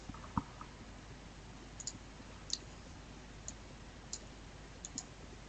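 A computer mouse gives faint, sparse clicks at an uneven pace during image editing, each one a small, sharp tick over a quiet background.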